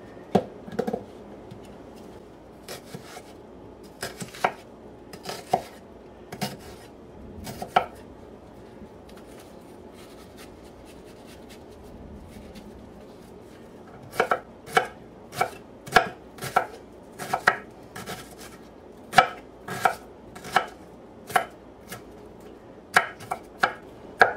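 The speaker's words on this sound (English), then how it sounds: "It can be a coarse chop because they're all going to cook to death eventually anyway." Knife chopping onion on a cutting board for a coarse chop, crisp clustered knocks first irregular then a steady run of about a dozen evenly spaced strikes, close and clear with no voices.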